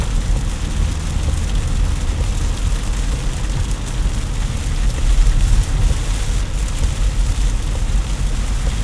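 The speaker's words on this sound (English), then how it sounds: "in the summer we get, whenever it's really warm out, we get a nice little rain." Warm summer rain falls steadily outdoors in Florida, a loud, even hiss of rain with a low rumble beneath, with no voices.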